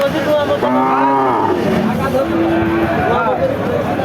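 A cow lows loudly at the Barobazar cattle market in Jhenaidah, where thin cattle are traded. A long, drawn-out moo rises over constant crowd babble and nearby talking.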